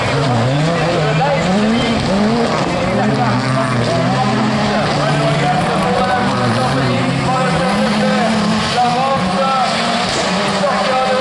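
Supercars racing at a French rallycross championship round at Kerlabo, loud revving engines with shifting pitch as cars pass and accelerate, under continuous excited commentary.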